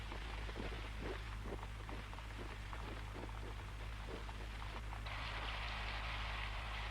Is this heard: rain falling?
yes